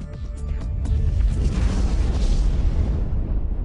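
A nuclear explosion effect swells into a long, loud, deep roaring blast that holds steady for several seconds before slowly tailing off, with no voices.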